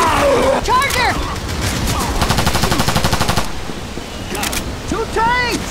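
An SG552 assault rifle fires in the zombie shooter Left 4 Dead 2, a fast, steady burst of close, loud shots lasting over a second, with game voices speaking before and after it.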